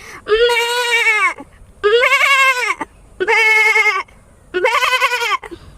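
A woman imitates a goat bleating, four long wavering bleats in a row separated by short pauses, loud and close.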